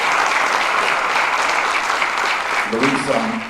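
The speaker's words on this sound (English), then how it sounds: "The other person I would like to just give him a round of applause is Luis Palacios." At a Bellarmine Hall of Fame induction, an audience gives Luis Palacios a loud, dense round of applause that holds steady, with a voice starting to speak under the clapping near the end.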